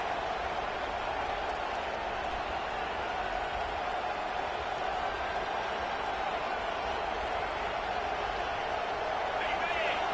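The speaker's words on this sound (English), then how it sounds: "Listen to this crowd just shaking the girders of this place, trying to help their defense." Football stadium crowd at Texas A&M vs Utah roars in a dense, sustained wall of cheering and noise that holds steady for the full span, loud and unbroken.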